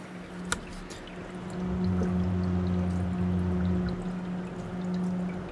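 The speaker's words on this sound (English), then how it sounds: "I will put them up and you can hear them, because I guarantee these ain't gonna be quiet." Thermalright TL-E12W-S X3 ARGB 120 mm PC fans spun up loud, a steady airy whoosh with a low hum that swells after a click and holds, with no voices.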